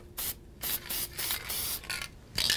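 A spray can lays paint on a freehand carved wooden sign in about six short, hissing bursts separated by brief pauses, close and fairly loud.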